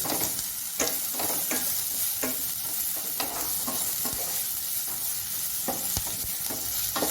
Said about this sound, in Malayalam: നന്നായിട്ടൊന്ന് ഇളക്കി കൊടുക്കണം. ലോ ഫ്ലെയിമിൽ തന്നെ വെക്കണം.